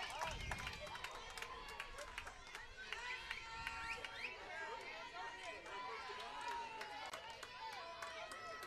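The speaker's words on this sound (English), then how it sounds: "Crowd for both of these teams making noise." Fans of both teams at a college softball game between Fordham and Dayton make a steady, lively crowd noise of chatter, calls and whistles. It carries on without a break throughout, with no single sound standing out.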